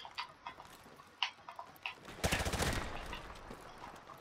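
Gunfire from a gun in Modern Warfare Remastered Gun Game: a few scattered sharp cracks, then a loud dense burst of rapid shots that trails off, fairly close.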